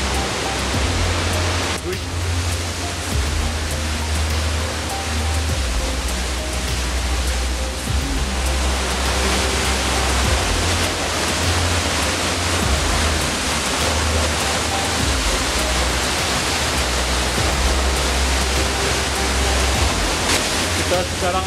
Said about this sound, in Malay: Sampai di air terjun Lubuk Bulan.